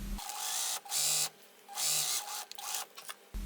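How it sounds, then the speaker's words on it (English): Sewing machine stitching the last hem of a jersey bag 2 centimetres from the edge, several short motor whirring bursts with brief pauses between them, close and alone. "I pin it, and I sew 2 centimeters from the edge"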